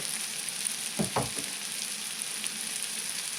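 An egg fries in a pan on a stove set to heat level 4, giving a steady close sizzle throughout, with a couple of brief louder scraping or crackling bursts near the middle.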